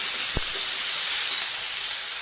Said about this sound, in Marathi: ज्या उकळलेल्या आहेत, त्या आता ह्याच्यात घालायच्या आहेत आणि चांगल्या परतून घ्यायच्या आहेत फास्ट गॅसवर